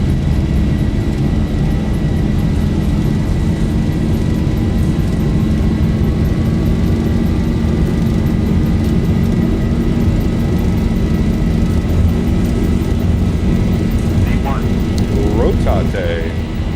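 Simulated Boeing 737-800 jet engines at takeoff power in X-Plane 12 give a steady, continuous roar with a faint rising whine, while cockpit clicks and mechanical sounds come through near the end.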